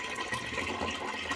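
Tap water running through a cloth tied over a faucet, a soft continuous splashing stream, fairly quiet and steady with no talking.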